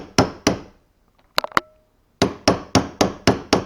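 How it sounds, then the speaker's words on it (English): Sharp metallic hammer taps strike a jig hook eye resting on a flat surface, two blows, a pause with a few light ticks, then a steady run of six evenly spaced close knocks. "I'll take a hammer and tap it in."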